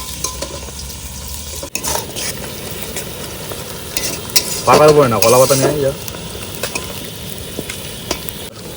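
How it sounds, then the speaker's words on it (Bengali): Onions frying and being stirred in a pan for a Bengali-style chicken curry give a steady close sizzle with stirring scrapes, while a person speaks briefly over the cooking. "আচ্ছা, পেঁয়াজটা ভাজা হয়ে গেছে,"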